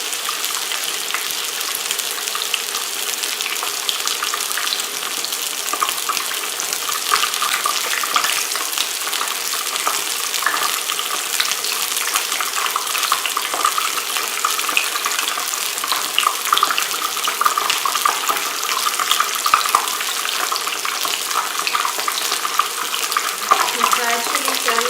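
Mushrooms sizzle and crackle steadily in hot oil as they fry for a crispy snack, a dense, even hiss that holds at the same level throughout with no talking.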